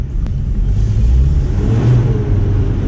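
A Toyota truck engine revs steadily in two-wheel drive as its tires spin climbing a hill, a loud sustained mid-range drone with a rising whir and no voices.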